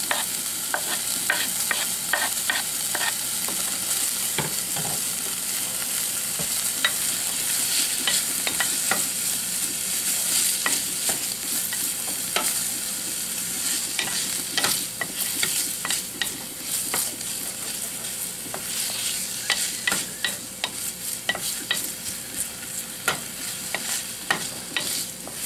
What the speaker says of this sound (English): Just add 1 tablespoon of butter. Then add the bacon.